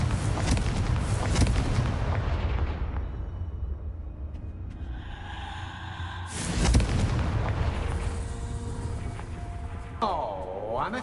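Confringo spell explosions in the video game Hogwarts Legacy: heavy, rumbling blasts, one at the start, a sharp loud burst midway and a smaller one near the end, with decaying booms and debris between them.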